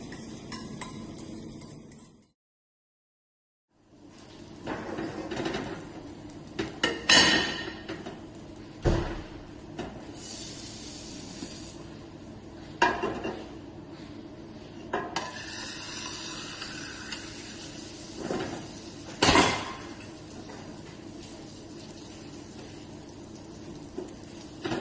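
Onion tortilla cooking in hot oil in a frying pan, a steady low sizzle running throughout with intermittent clinks and scraping knocks of utensil against pan, after a brief silent gap near the start.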